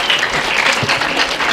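Brief loud applause from an audience at an official school ceremony launching selection and guidance exams, dense clapping close by that stays steady for the whole moment.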